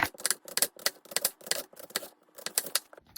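A knife slices an onion into rings on a cutting board, producing a quick series of crisp, close chopping taps in an uneven rhythm, with no talking.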